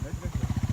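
A motorbike's engine runs close by with a lumpy, pulsing low throb while it is being parked near the Talang Maua waterfall, firing in a quick regular rhythm for under a second.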